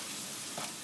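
Chicken and onions sizzling in a frying pan while being stirred, a steady, close, hissing fry with a faint scrape, no voices.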